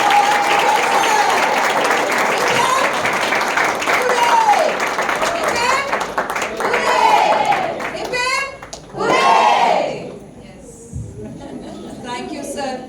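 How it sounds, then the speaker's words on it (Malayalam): An audience at a Medha Yoga feedback session claps together in a loud, steady burst lasting several seconds. The clapping then fades as voices take over. "so one big clap"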